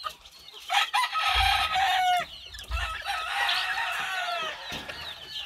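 Farmyard chickens cluck busily while a rooster crows loudly nearby, the calls overlapping continuously with no talk.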